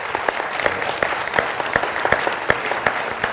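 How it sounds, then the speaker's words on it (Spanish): Audience applause at a civic-themed talk, a steady dense clatter of many hands clapping at close range with sharp individual claps standing out, continuing without speech. "Gracias, un aplauso."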